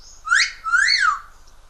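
A blue parrot gives two clear, rising-and-falling whistled calls in quick succession, loud and very close, with nothing else around.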